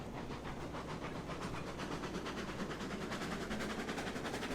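A Shay steam locomotive in the Railroads Online train game chuffs and hisses steadily at moderate volume with a fast, even rhythmic beat and no talk.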